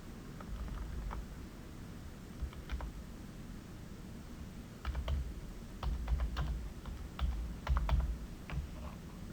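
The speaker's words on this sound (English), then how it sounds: "Let me type in my password." A password being typed on a computer keyboard, with scattered light key clicks at first, then a denser run of quick taps, close by over a faint steady hiss, with no talking.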